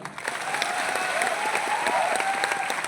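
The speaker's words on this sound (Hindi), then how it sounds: "ताली बजाओ ना" A crowd at an indoor gathering claps in sustained, lively applause. The clapping is close and fairly loud throughout, with a faint steady tone running beneath it.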